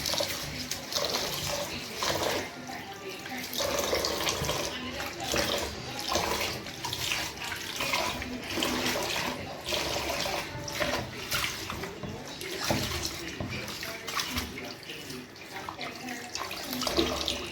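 Rice is washed under a running kitchen tap, a continuous close splashing and rushing of water with small fluctuations from stirring, lasting throughout without speech.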